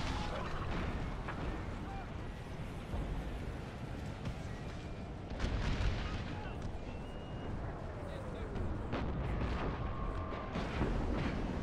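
Artillery fire in Napoleon Total War with an American Civil War mod, a battle at Little Round Top, Gettysburg: continuous dense rumbling battle noise with repeated booming cannon shots and crackling musketry, loud and sustained, with someone talking over it.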